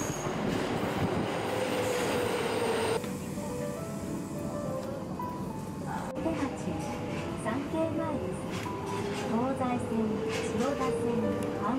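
A Tokyo Metro Marunouchi Line subway train rides along with steady rumbling wheels, rising and falling motor whine and squealing on the rails, heard from inside the car while a person talks over it.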